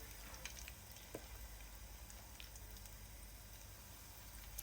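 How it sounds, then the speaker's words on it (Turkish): Dough for Turkish yogurt dessert (zingil) sizzles quietly in hot oil, a steady soft hiss dotted with small crackles and pops, with no voices. "Gördüğünüz gibi hamurunu da çok kolay, pratik bir şekilde e, kızartıyorum"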